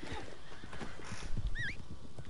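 Horse sounds in the Red Dead video game, with a high whinny-like call and soft clip-clop hoofbeats over a busy background, brief and moderately loud, with no one speaking.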